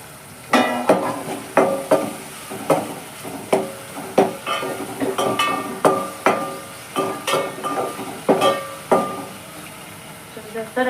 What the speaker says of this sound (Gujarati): સરસ એવો 2 મિનિટ આપણે આ બધો મસાલો તળવા દઈશું